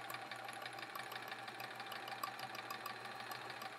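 Home sewing machine chain piecing half rectangle triangle quilt blocks, running steadily in a fast, smooth, even stitching whir throughout with no pauses.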